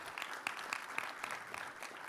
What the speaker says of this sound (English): we give a resounding round of applause to the President of the Republic of Ghana